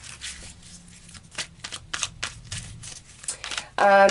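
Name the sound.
shuffling tarot cards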